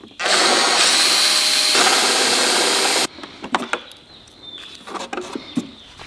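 A power drill runs loud and steady for about three seconds while working on a BMW 2002 heater box, then cuts off, leaving scattered clicks and handling knocks.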